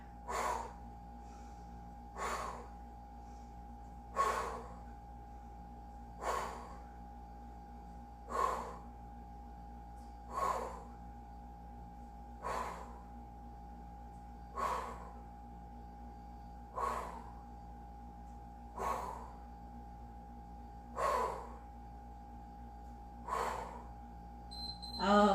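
Heavy, rhythmic breathing during a total body interval workout, with sharp exhales repeating about every two seconds over a faint steady hum, quiet and close.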